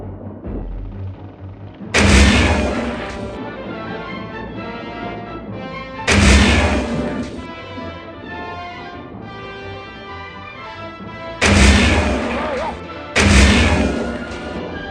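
A gun sound effect and a tank blowing up: four loud, booming blasts, each with a sharp attack and long rumbling decay, arriving at uneven intervals over a continuous low background.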